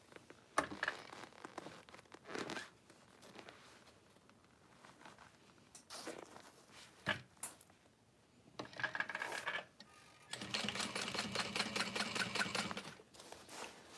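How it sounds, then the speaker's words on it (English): A home sewing machine top-stitching and basting a small Snow Drop bag through its lining, with short, quiet runs of rapid stitching between soft handling noises, fabric rustles and light clicks. The longest burst comes near the end. "I'm gonna finish top stitching or basting this in place on the other side."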